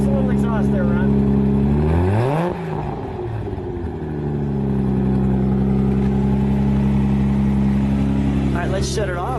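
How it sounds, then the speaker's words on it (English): Turbocharged 1998 Toyota Supra idles loudly up close, its exhaust rising into a brief rev near the start before settling back to a steady, smooth drone, with a faint voice underneath. "Give us a little exhaust there, Ron."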